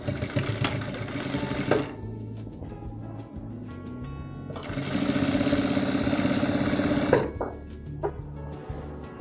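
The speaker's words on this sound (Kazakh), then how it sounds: "Торланған белдемшеміздің екі жағын қайтарып тігеміз." Sewing machine stitches the folded-back edges of an overlocked skirt waistband, one side turned 1.5–2 cm, in two long loud runs of steady motor whirr with quieter pauses between them.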